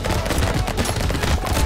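Rapid machine-gun fire from the video game Brotato rattles continuously and loudly, a dense unbroken burst of shots with no talk over it.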